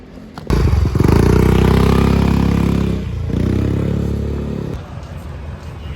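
A motorcycle engine revs loudly close by for several seconds, dips briefly, then fades as it pulls away.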